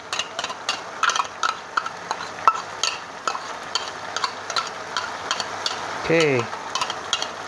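Chopped chilies and garlic sizzle in a pan while being stirred, with rapid scraping strokes of a utensil over steady frying hiss; a brief voice is heard.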